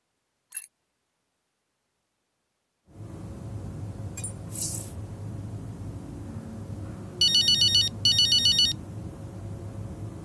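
A phone rings during a cutscene in the F1 23 racing game's Braking Point 2 story. A brief click and a quiet stretch come first, then two bursts of electronic ringing sound over a low room hum.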